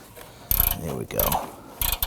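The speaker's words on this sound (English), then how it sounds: "We're using a swivel head ratchet." A swivel head ratchet loosens the upstream oxygen sensor on a 2018-2024 Toyota Camry, with a few short bursts of clicking close by and faint background noise between strokes.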